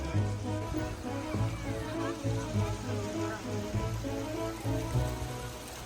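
Steady rain patters on a hard surface nearby at a lavender farm near Warsaw, a soft continuous hiss with faint voices in the background.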